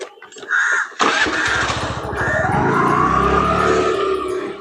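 A motorcycle engine cranks, catches after a second, then settles into a loud, steady idle close by.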